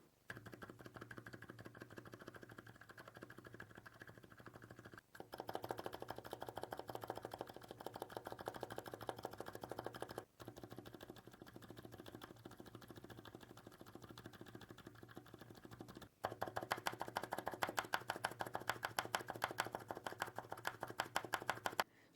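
Quiet, rapid typing on a keyboard fitted with Akko Penguin Silent tactile switches: dense, muted keystrokes in a steady run broken by a few brief pauses, heard close up with no talking.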